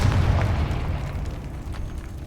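A Confringo blast spell from the game Hogwarts Legacy, heard as one loud, low booming explosion that rumbles and slowly fades over about two seconds, with no voices.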